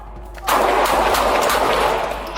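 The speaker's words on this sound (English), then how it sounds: "Shots fired! Shots fired!" Gunfire erupts during a police confrontation with a knife-wielding suspect, a loud burst of shots starting about half a second in and continuing as a dense, sustained volley that fades slightly toward the end.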